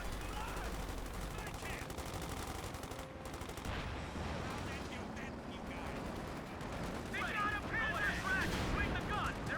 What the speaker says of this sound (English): Two more Panzerschreck shots hitting.